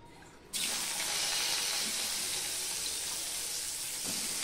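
Eggs fry in leftover oil in a pan after brinjal slices, a sudden onset of steady bright sizzling that continues evenly and moderately close, with no talk.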